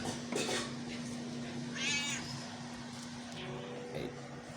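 Pet cats meow several times nearby in a quiet room, one drawn-out cry standing out, alongside faint clinks of household objects.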